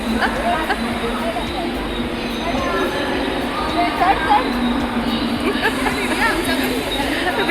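A train rumbles into a station with metallic rail noise and faint squeals, while people talk and chatter in the background throughout.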